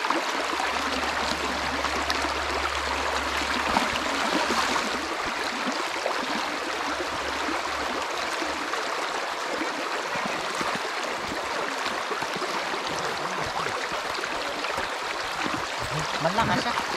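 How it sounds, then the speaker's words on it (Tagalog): Strong river current rushes steadily, a constant broad hiss of water flowing throughout, with occasional voices underneath. "Malakas siya. Lakas ang agos,"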